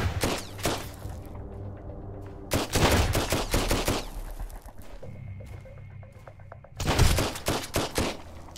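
Shotgun gunfire in the video game Sunkenland, during a fight at a bandit outpost: clusters of loud, sharp blasts in three separate bursts, with quieter reloading clicks and ambience between them.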